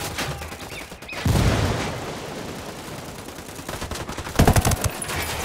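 Gunfire in the video game Ghost Recon Wildlands: a loud burst of shots, a stretch of rattling fire in the background, then another sharp cluster of close, heavy shots near the end.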